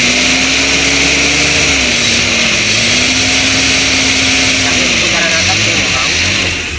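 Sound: Suzuki Espass car engine revving on LPG fuel

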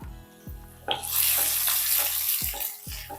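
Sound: curry leaves and garlic lightly frying in oil

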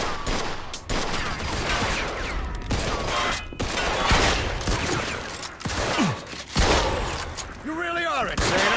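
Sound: gunfire in Mafia 2 video game

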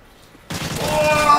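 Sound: gunfire and strafe run in Call of Duty video game

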